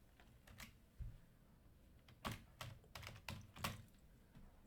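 Typing on a computer keyboard while Blazor code is written, with a few faint, close key clicks followed by short clusters of sharper taps and gaps of quiet between them.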